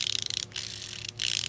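A Pittsburgh dual head ratchet clicking in quick, rapid bursts, close and crisp, with two short pauses between the runs of clicks.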